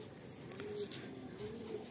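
A pair of Andhra pigeons, male and female, gives a soft, low cooing in two brief drawn-out calls over steady background noise, fairly faint and with no talking.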